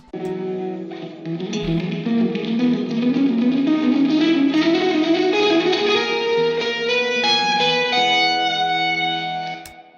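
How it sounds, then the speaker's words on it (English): An electric guitar runs through an amp model with a sweet reverb setting in AmpDesigner (GarageBand/Logic Pro), playing a sustained, gliding phrase with a lush, natural reverb tail that fades out at the end. No one speaks. "My personal favorite is the sweet reverb. So let's have a listen."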